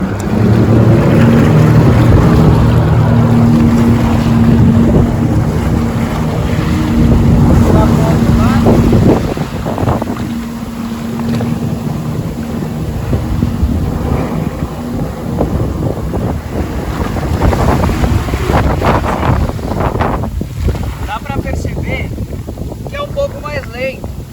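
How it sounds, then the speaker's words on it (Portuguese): Sea-Doo Fish Pro 2021 jet ski in reverse, engine throttled hard: a loud steady roar with wind buffeting for the first nine seconds, then rougher churning water and engine noise at slightly lower level. "Vou puxar a ré aqui, ó, e acelerar tudo."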